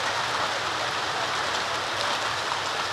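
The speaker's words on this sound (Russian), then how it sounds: "Вот что называется дождь стеной. Его прям слышно, как он приближался." A heavy wall of rain pours down over a motorcycle rally campsite, a loud, unbroken hiss of drops drumming on surfaces close by, with no voices.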